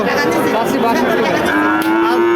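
A loud, drawn-out cow moo close by at a cattle market, with a busy crowd murmuring in the background.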